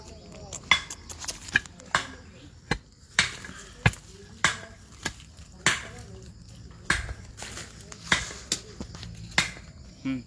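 Sharp hammer blows drive a post into the ground during a hands-on farm training session, about a dozen distinct strikes at a steady, slightly uneven rhythm, close and fairly loud, with people talking in the background between hits.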